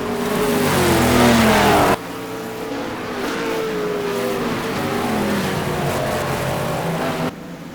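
A Ford GT race car drives at speed around the Zandvoort circuit, its loud, sustained engine roar holding a steady pitch, with abrupt shifts in level where the sound cuts between passages.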